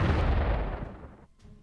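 Artillery fire in the WWII strategy game Panzer Corps: a single heavy, booming blast that rolls out and decays over about a second, loud and close, with no talk.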